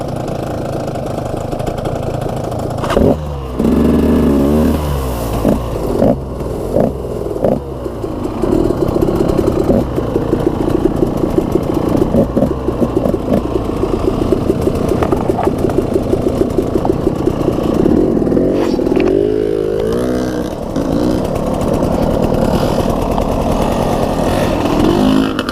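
A motorcycle engine loud and close while riding, a continuous throaty drone with a rapid pulsing exhaust beat that rises and falls as it revs, steady throughout with no talk over it.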